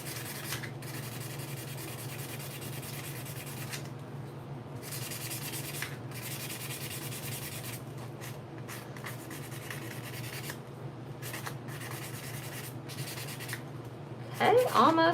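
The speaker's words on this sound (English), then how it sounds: "We're just sanding it to get it super smooth." Sanding a cured UV resin surface by hand, a soft steady scraping rub that keeps going with brief pauses, faint and close, with a louder handling noise near the end.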